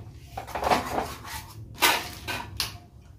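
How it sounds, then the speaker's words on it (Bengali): A pot of rice is set on to cook in a home kitchen: a few close metallic clanks and scrapes of cookware being handled and put down, in quick irregular knocks with brief pauses. "এবার এই ভাত বসালাম"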